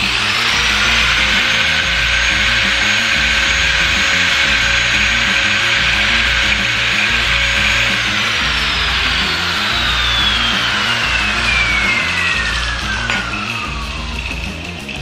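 A corded angle grinder plugged straight in with no speed control runs at full speed, a loud steady high whine with a falling pitch sweep partway through, continuous and alone for about fifteen seconds.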